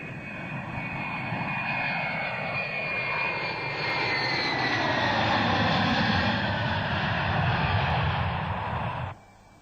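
Charter airplane from Moscow arriving in Bratsk, Siberia, during the 1990 Camel Trophy, heard as a continuous loud aircraft engine drone with a sweeping pitch, steady throughout and cutting off abruptly near the end, no voices.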